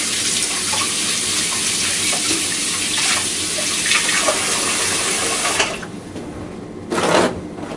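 Running tap water splashes steadily as kitchen utensils are rinsed in a sink, a continuous close hiss that thins out briefly near the end before a short surge of flow.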